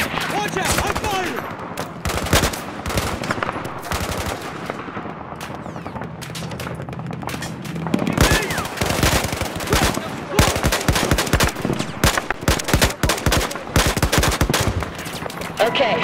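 Bursts of machine gun fire in the shooter game Battlefield 4, loud and close, with rapid rattling volleys that are sparse early on and become dense, near-continuous automatic fire in the second half, over a low battlefield rumble.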